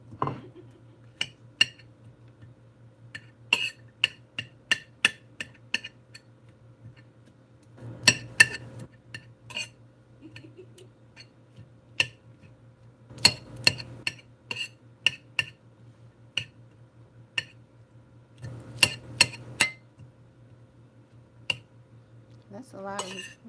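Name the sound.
cutting meat with a knife on top of onions and celery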